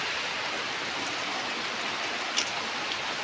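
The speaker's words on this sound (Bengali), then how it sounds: "দেখতেই পাচ্ছ অনেক বৃষ্টি হচ্ছে।" Heavy rain falls in a constant loud wash of noise outdoors, with one brief sharper splash or knock partway through.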